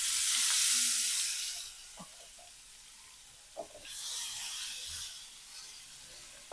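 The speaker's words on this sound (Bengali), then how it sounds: "তেলটা গরম হয়ে গেছে, তো মাছটা দিয়ে দিই এখন" Fish sizzling as it goes into hot oil in a pan, a loud burst of frying hiss at the start that settles, then swells again midway, with a few light clinks of utensils and no talking.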